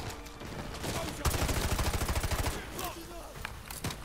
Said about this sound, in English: That beautiful gun sound.